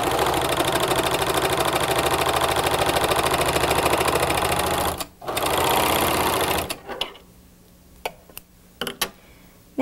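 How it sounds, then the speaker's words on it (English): A Speedylock 299 serger stitching medium-weight knit sweatshirt fleece runs at a fast, steady mechanical whir for about seven seconds, then stops, followed by a few faint handling clicks. "Now serge."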